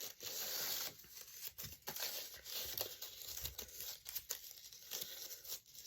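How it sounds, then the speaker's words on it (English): Scissors snip and crinkle through thin white crepe paper in a run of quiet, rustling cuts, close by with no talking. "Let's cut our white with the regular scissors."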